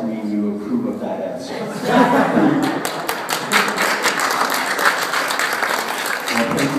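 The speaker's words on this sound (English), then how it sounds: "I will take that round of applause to mean you approve of that" An audience at a Carl Sagan Day lecture breaks into a round of applause after an astrophysics talk, the clapping swelling and holding steady as a dense, close wash of hands with scattered chuckles and a voice mixed in.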